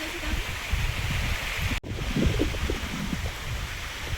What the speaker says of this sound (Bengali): ভালোই বৃষ্টি শুরু হয়েছে।